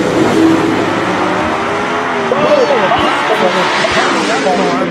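Funny car drag racing at Mo-Kan Dragway: a loud, sustained roar of engines on the track, with a track announcer talking continuously over it.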